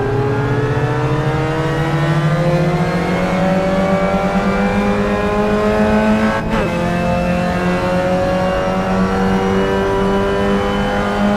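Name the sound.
Clio Cup race car engine revving in racing game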